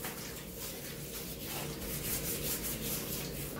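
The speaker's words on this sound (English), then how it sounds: "You have to do a little scrubbing, but it's natural." A bathtub scrubbed with baking soda and vinegar: soft, continuous rubbing strokes, quiet and close, in an uneven back-and-forth rhythm with no voices.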